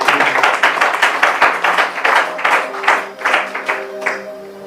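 A church congregation claps in a fast, steady rhythm, loud and close, with a sustained musical tone underneath and no talk.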